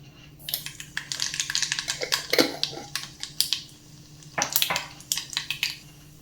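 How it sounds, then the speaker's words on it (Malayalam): Mustard seeds crackle and pop in hot oil while a Kerala brinjal mezhukkupuratti is being cooked. The close, dense, irregular spluttering comes in bursts and eases off near the end. "കടുക് പൊട്ടിയിട്ടുണ്ട്."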